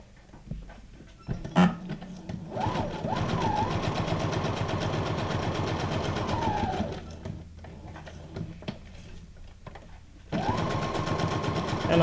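Sewing machine running decorative stitch number 17 on a junk journal page, a close, steady mechanical whirring with rhythmic needle ticking that runs for several seconds, pauses, then starts up again.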